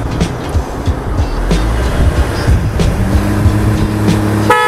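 Mercedes-Benz W210 and Hyundai Genesis launching from a two-pedal drag race start, engines roaring loudly together as they accelerate, with rising tones near the end.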